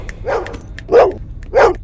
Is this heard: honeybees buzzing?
no